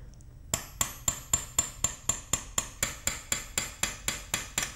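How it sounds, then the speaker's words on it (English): A steel punch struck by a chasing hammer on silver during repoussé work, a steady run of about sixteen sharp, ringing metallic taps at an even pace, close and clear with no voices. "So here I'm using a steel punch and a chasing hammer."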